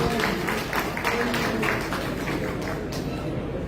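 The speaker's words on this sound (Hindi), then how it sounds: "मैं चाहूंगा कि आप अपने लिए जोरदार तालियां बजाएं" An audience at an award ceremony in Hanumangarh, Rajasthan, applauds loudly and steadily, a dense wash of clapping with voices mixed in throughout.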